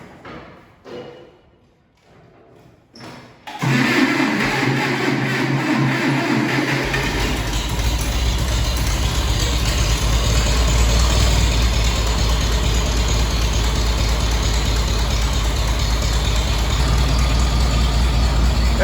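Case engine cranks after a few quiet seconds of thumps and handling, then settles into a steady, loud low chugging idle as it warms up in 10-degree cold.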